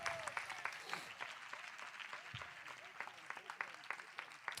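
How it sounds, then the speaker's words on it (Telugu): A church congregation claps together in a steady, continuous burst of applause, heard fairly faintly with no talking over it. "విశ్వసించిన వారు గట్టిగా చప్పట్లు కొట్టి దేవుని మహింపరచండి"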